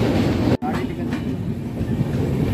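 Thirukkural Express passenger train running from Hazrat Nizamuddin toward Kanyakumari, a continuous loud rumble of wheels and carriages with faint rhythmic clatter and one brief dip, heard from on board.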